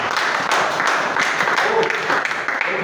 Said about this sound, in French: Acclamons d'abord le Seigneur